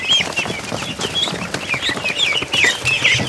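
Ducklings give thin, high peeping calls, scattered and repeated over a rustling, shuffling background, fairly close by.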